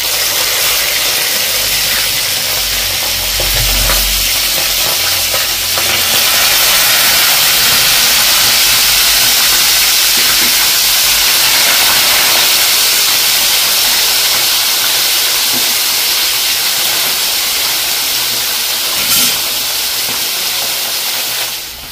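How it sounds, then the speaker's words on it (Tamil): Shallots fry in hot oil in a pan, giving a steady, loud sizzling hiss that runs unbroken throughout with no voices. "இப்போ அடுத்தது வந்து சாவாலை பொரிக்க போகிறோம்."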